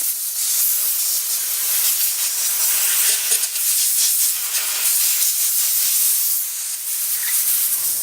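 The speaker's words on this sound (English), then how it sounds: "we're just going to use straight compressed air and try to dry this out underneath here" Compressed air blows steadily under paint protection film on a car panel, a continuous close, loud hiss with slight fluctuations and no pauses.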